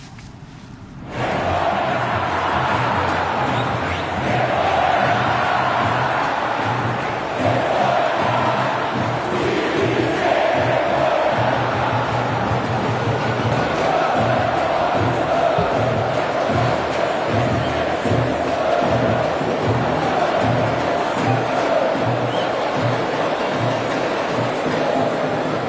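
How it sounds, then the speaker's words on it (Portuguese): Flamengo football fans chant in protest, a large stadium crowd roaring a rhythmic, repeated chant that continues loud and steady for over twenty seconds. "A torcida do Flamengo protestou."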